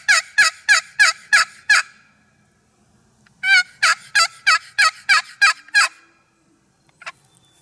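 A wooden box call imitates a hen turkey's yelp in two loud, close runs of about six and eight sharp raspy notes with a pause between them. One faint note follows at the end.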